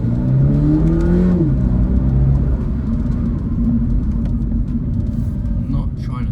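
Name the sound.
2023 Subaru BRZ engine accelerating, heard through open window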